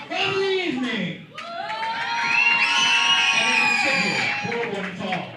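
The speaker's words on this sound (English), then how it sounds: "Having you guys cheer all night, but you gotta get louder than that." At a pro wrestling show, an announcer's voice booms over a loud arena crowd that swells into sustained cheering, shouting and whoops, holding strong for several seconds.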